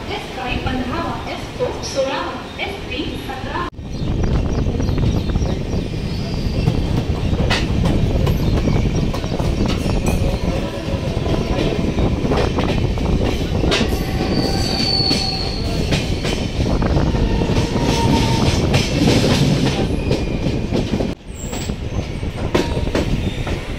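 The 22105 Indrayani Superfast Express rolls toward Kalyan Junction with a loud, continuous rumble, clattering wheels and high metallic squeals, heard steadily from on board as people talk.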